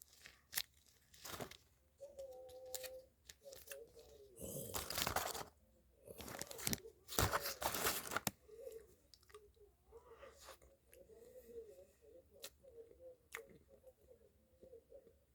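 Eating a vanilla castella-style cupcake filled with white whipped cream: soft, quiet squishing and chewing with a few crinkly wrapper rustles and louder bursts of handling noise, close to the microphone, and no talking.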